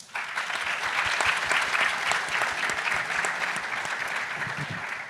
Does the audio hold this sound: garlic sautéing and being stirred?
no